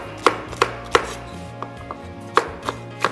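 A knife chops through a sweet pepper on a board in a series of sharp, separate cuts, spaced unevenly, some louder and some softer, close by with no voices.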